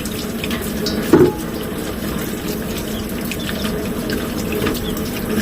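Water from a kitchen tap runs steadily into a sink while rice is being washed, a continuous close splash with one brief louder slosh near the start.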